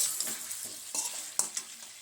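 Chicken sautéing in oil in a pan, with a steady close sizzle and several short scraping stirs from a utensil.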